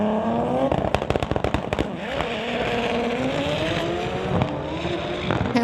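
A 1996 Volkswagen Golf and a 2008 BMW drag racing, loud engines rising through sharp gear changes with popping, crackling bursts and continuous roar at close range.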